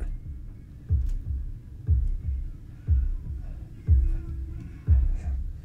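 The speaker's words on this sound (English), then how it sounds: "It's a heartbeat." A steady heartbeat thumps through speakers, deep lub-dub pulses repeating about once a second over a low background hum.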